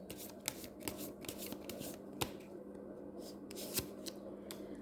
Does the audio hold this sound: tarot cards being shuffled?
yes